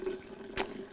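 Hot jamu turmeric and ginger tonic poured into a passata jar, a short liquid pour with a splashy gurgle, close and clear with no talk.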